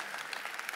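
Audience at a mind-reading stage show applauding, a soft even patter of many hands heard at a distance, faint and steady with no clear individual claps.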